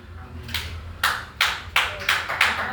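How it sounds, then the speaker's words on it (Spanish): A church congregation applauding, with a quick, loud run of roughly six rhythmic claps in close succession over a low background. "Dale los aplausos al Señor"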